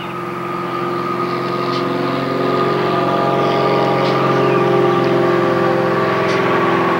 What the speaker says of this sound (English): We'll wait for the plane to pass and the engine noise to come down a little.